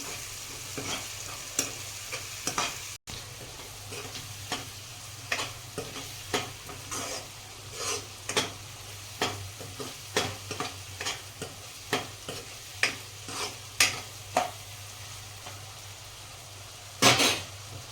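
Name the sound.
onions frying in a pan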